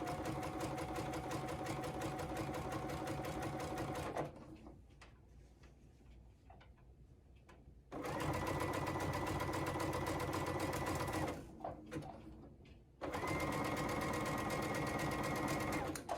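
A sewing machine stitches pieced scrap batting in three loud steady runs, with two quieter pauses between them that carry faint clicks and handling noises.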